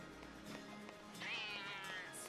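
A cat meows in the Final Fantasy XIII-2 video game, heard as a rising, drawn-out game sound effect amid light background music, moderately loud and without talk.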